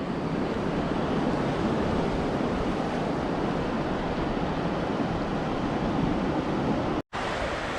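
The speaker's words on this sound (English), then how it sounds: "So John and I are on the beach pretty early" Steady surf and gusting wind fill a beach at Anastasia State Park, Florida, in early morning, a continuous loud wash of breaking waves with wind buffeting the microphone and one brief dropout near the end.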